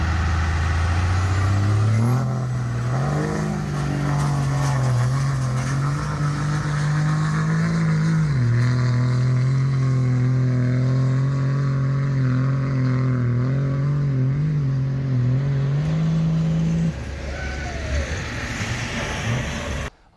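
A Cummins diesel drag truck engine roars and revs hard during a dirt sled pull, running about 12 pounds of boost on an HE351 turbo; its loud, sustained drone rises and wavers before easing off near the end.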